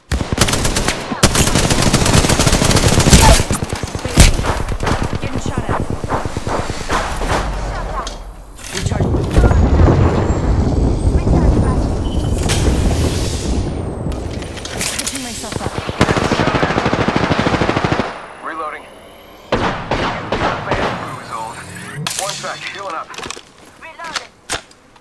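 Video game gunfire in Apex Legends, long bursts of rapid automatic shots and single cracks, loud and close, breaking into brief pauses, with speech now and then over the shooting.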